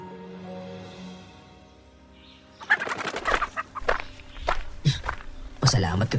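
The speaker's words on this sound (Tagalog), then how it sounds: "Nagkandagulat pa ang mga manok" Startled chickens cluck and flap nearby in a sudden burst of fowl squawks and footsteps that starts about halfway through, following a calm, low-level opening stretch; staged as a sound effect for a spoken horror story.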